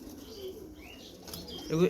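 Large pankhi fancy pigeons coo softly and flap their wings close by in a short, fairly quiet burst, ending with a louder flutter.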